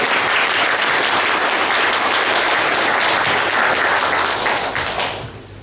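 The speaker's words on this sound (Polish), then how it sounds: "Brawa, tak, brawa." Loud, dense applause from a large crowd at a patriotic congress in Braniewo, Poland, continues steadily, then fades out toward the end.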